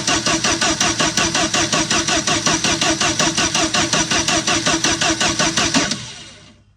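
A Bobcat skid steer with a carbureted engine, fresh spark plugs, a new distributor cap and a new ignition coil cranks loudly and steadily in a fast, even rhythm for about six seconds, then winds down without catching.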